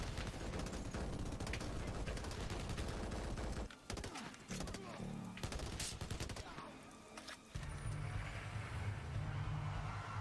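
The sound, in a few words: mounted gun firing in the video game Blackwater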